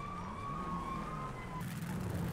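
Police car siren in a video game, a steady wailing tone heard at a distance over a low engine hum that cuts out partway through, leaving only the engine.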